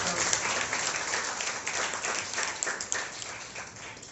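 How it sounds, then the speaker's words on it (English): School audience applauding the teachers at a school event, a steady dense wash of clapping from many hands, moderately distant, under faint talk. "can you put one round of applause to all the teachers"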